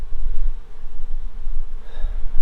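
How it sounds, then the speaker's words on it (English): Honey bees swarm over a frame lifted from a hive during a warm-weather inspection, making a dense, continuous close buzz with a low droning hum that holds steady throughout. "Significantly more bees on it than I have seen before."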